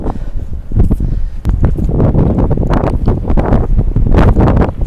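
Strong wind buffets the microphone outdoors at a seaside fort, a loud continuous rumble with gusty bursts and rustling throughout, no voices.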